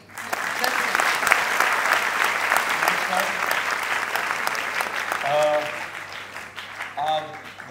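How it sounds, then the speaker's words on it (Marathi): An audience at a film music launch event applauds, a dense, sustained wash of clapping that fills the hall before tapering off, with a voice briefly audible over it near the end. "मगाशी त्यांच्या एंट्रीला जितक्या टाळ्या वाजल्या तितक्या आत्ताही चालतील."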